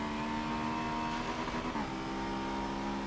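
Honda S2000 engine racing in Forza 7, a steady loud drone of a high-revving motor with a brief pitch dip near the middle, held continuously and alone at close range.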